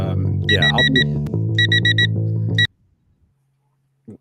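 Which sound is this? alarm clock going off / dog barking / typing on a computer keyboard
alarm clock going off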